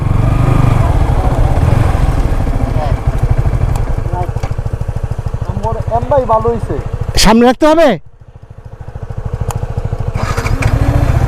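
A motorcycle engine idles steadily up close at a checkpoint on the road to Bholaganj Sada Pathar, with someone talking over it, a brief rev or clatter near the end, then a low rumble continuing.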